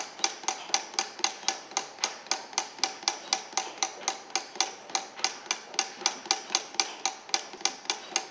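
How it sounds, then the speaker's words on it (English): A file-cutting machine's hammer strikes a chisel as the file moves beneath the striking mechanism, giving a fast, even series of sharp metallic ticks, about three or four per second, close and clear with no voices. "It reproduces the motion of the hammer striking the chisel as the file moves below the striking mechanism."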